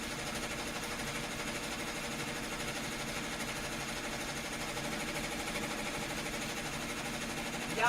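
A sewing machine stitching a satin stitch, a steady fast mechanical whir and rattle holding even throughout at moderate volume, with no one speaking.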